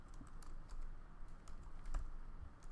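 Keys on a computer keyboard tapped to enter a search term, a quiet run of light irregular clicks spread across a few seconds with no talking.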